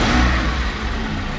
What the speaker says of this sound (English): So I started the car very quickly, put my hand on the car steering wheel and pressed the gas.